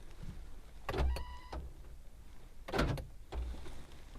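Power door locks on a car, worked from the driver's door, actuate in two quick mechanical bursts about two seconds apart, each a short whirring clunk, close and fairly quiet with no talk.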